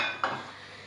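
A spoon stirring hot chocolate from a combat ration in a pot, a brief single scrape and clink of metal against the pot, fairly faint and close.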